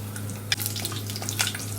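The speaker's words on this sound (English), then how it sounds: "1 teaspoon of mustard seeds. Once it splutters" Mustard seeds splutter in hot oil in a pan, a close crackling sizzle broken by a couple of sharp pops.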